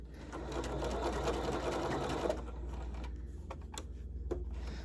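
A sewing machine runs steadily, stitching a facing seam with lining, for about two seconds, then the motor stops and a few sharp clicks and taps follow as the fabric is adjusted, close up and loud.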